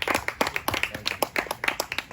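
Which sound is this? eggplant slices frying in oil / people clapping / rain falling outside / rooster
people clapping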